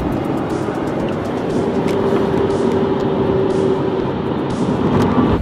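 Steady, loud engine roar from inside a 1985 Lamborghini Jalpa while it is being driven, a dense continuous drone with a faint whine running through it and no speech.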